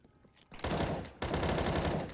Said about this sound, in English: Shots going back and forth through the smoke.